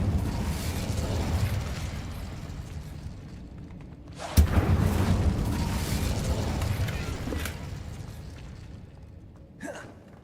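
A fire spell cast in the Hogwarts Legacy video game lets out one sharp burst midway, then a sustained crackling, roaring rush that slowly fades over a steady low rumble, with a brief whoosh near the end.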